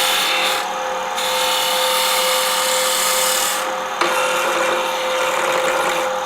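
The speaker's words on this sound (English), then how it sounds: "if I tilt the tool and keep the bevel on the wood, I can get a pretty clean cut" A wood lathe spins a round piece of wood while a sharp turning tool, tilted with its bevel riding on the wood, makes a loud, continuous scraping cut with a brief pause and resumption partway through.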